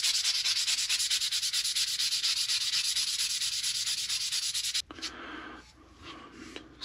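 A knife handle is hand-sanded with 320 grit paper in fast, even back-and-forth rubbing strokes, close and continuous, then the sanding stops and a few softer scrapes follow.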